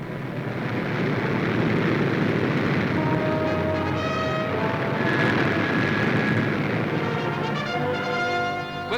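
Transport airplanes landing with airborne troops near Tokyo in an old wartime newsreel, a steady droning engine roar with faint whining tones, continuous and moderately distant, with no talk.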